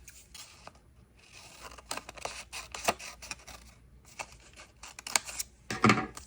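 Paper card cut in half with scissors gives a string of crisp snips and rustles of different strength, close and fairly quiet, ending in a louder crunch.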